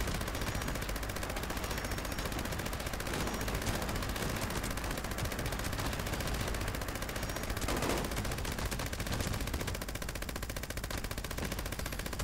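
A Gauss minigun in Fallout 76 fires in a long unbroken burst, a dense rapid rattle of shots that runs continuously without pause, with a brief louder whoosh partway through.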